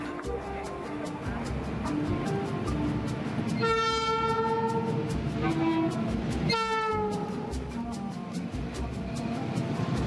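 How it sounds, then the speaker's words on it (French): A long freight train with endless goods wagons rolls along a railway line in southern Africa near the Swaziland border, a steady rumble and clatter throughout, with two loud horn blasts partway through. "Des colonnes interminables de wagons de marchandises longent les premiers kilomètres du tronçon qui mène à Goba"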